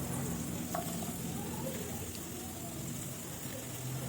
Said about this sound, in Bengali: এখন বিনস আর গাজরটা ভাজা ভাজা হয়ে এসছে